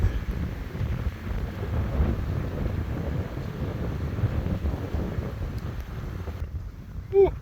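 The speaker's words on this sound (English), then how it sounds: "It's a little windy, but we're keeping it small." Strong gusts buffet the microphone at a small campfire on a windbound shore of Philip Edward Island's Colin's Inlet, a constant low rumbling roar that drops away near the end.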